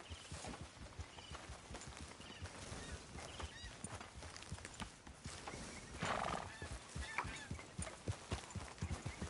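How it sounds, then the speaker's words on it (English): Horse hooves clip-clop steadily at a riding pace in the Red Dead Redemption 2 video game, close and continuous, with an occasional neigh and faint game ambience beneath. "Grab your horse and let's go."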